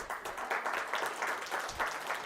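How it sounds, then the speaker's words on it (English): A round of applause from the audience at a health summit session, steady moderate clapping from a crowd heard at a middle distance, with no one speaking over it. "May I request for another round of applause for a champion"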